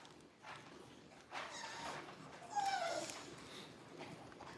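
An American Bully dog outdoors whining for a treat, with a few rising and falling whimpers spread over several seconds, close but fairly soft against quiet background noise.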